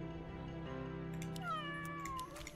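A cat meows from the Legion TD 2 video game, a short drawn-out meow rising over dense, droning game music and effects.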